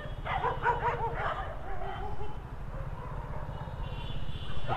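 A pack of dogs barks and yips around a delivery rider's motorbike in Mumbai, the barks clustered early and then thinning, set over a constant low engine hum.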